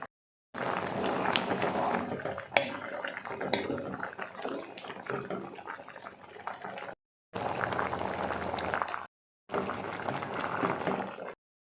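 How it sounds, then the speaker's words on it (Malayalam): Kerala-style green peas curry boils in a pot, a close, busy bubbling and popping that carries on steadily, broken by a couple of short silent cuts. "കറി നന്നായിട്ട് തിളച്ച് വന്നിട്ടുണ്ട്"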